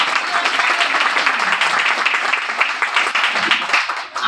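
An audience at a direct-selling talk breaks into loud, sustained applause, a dense wash of many hands clapping steadily for about four seconds before starting to thin out.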